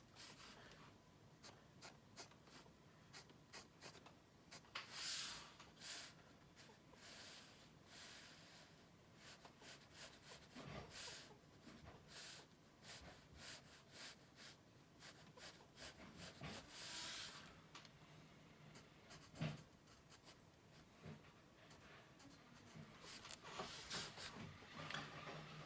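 A pencil sketches a simple perspective drawing in a quiet room, with steady scratchy strokes in short bursts and brief pauses between lines, close and fairly soft, with no talking.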